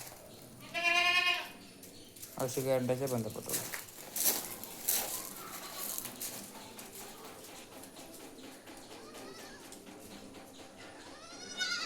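Young goats bleat several times in short, wavering cries at a livestock sale, one close and loud, others further off, with a person speaking briefly and some background clatter.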